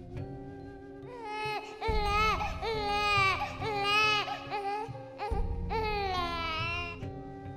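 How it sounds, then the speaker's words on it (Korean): A baby cries in repeated drawn-out wails, loud and close, in a series of sobbing bursts with a brief pause in between, used as an effect in a horror story. "텐트 주변에서 아기 우는 소리가 들리는 거예요"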